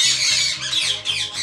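An Indian ringneck parrot in an aviary gives loud, harsh squawks in a rapid repeated series, close and alone.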